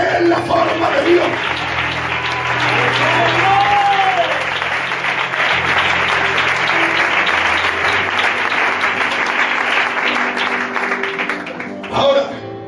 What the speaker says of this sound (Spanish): fuerte un aplauso a Él